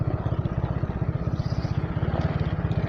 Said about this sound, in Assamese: বাইক স্টার্ট দিলো এতিয়া পুৰা ভুম ভ্ৰমণ কৰো